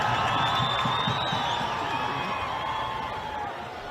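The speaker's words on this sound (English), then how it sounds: "Haris Zaid comes to the rescue from loud cheers from the crowd" Stadium crowd at a Pakistan versus Afghanistan Asian Cup qualifier football match cheering loudly, a steady roar of many voices with whoops that carries through the whole stretch and eases slightly near the end.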